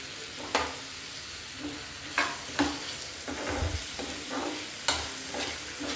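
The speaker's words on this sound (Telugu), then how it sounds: "ఇప్పుడు శనగపప్పు వేసేసుకుందాం" Chana dal and tomato being stir-fried in a pan, with soft continuous frying and a few sharp spatula scrapes and clinks at uneven intervals, close by and without talk.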